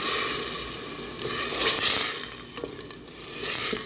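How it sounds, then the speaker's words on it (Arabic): Onion, garlic and a tomato sizzle in hot oil in a pan while being stirred, a steady close crackling fry with occasional scraping of the utensil and no talking. "زدت حطيت حبه طماطم، عاد نحركوها."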